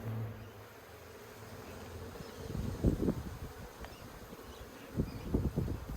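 Honeybees buzzing around an opened hive frame during an inspection, a steady low insect hum with louder swells as bees fly close, no voices.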